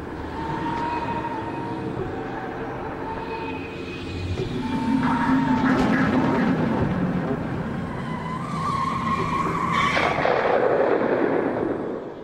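A car braking hard and skidding to a halt after swerving across a road, with a sustained tyre screech and engine noise swelling and fading over several seconds, loud and close, with no voices.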